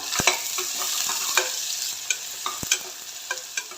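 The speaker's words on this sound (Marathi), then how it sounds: "एक बारीक चिरलेला कांदा कांदा मस्त मऊसूर होईपर्यंत परतून घ्यायचा आहे" Finely chopped onion with a pinch of asafoetida sautés in a pan, a steady close sizzle broken by repeated sharp scrapes and knocks of a stirring spoon.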